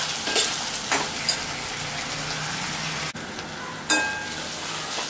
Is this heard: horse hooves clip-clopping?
no